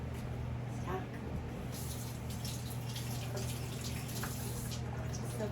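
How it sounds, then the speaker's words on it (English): Hands are washed under a running tap after plucking chicken wings: a steady, close rush of water runs the whole time with small splashes, and a voice murmurs faintly in the background. "And I'm gonna go wash my hands."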